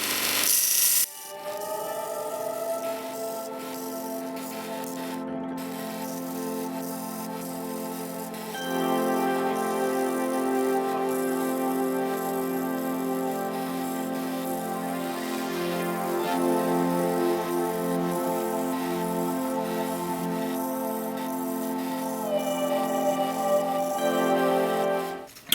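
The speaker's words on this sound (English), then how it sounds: "Let's see if we can sharpen a drill bit on this." A steady, loud grinding hum from a small belt grinder, with a rasping metallic whine that swells as a drill bit is pressed against the moving belt for sharpening.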